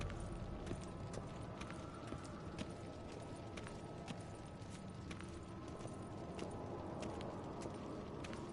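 Horse hooves clip-clop in a steady, even rhythm in The Witcher 3 video game, a faint, continuous trot under quiet ambient game sound.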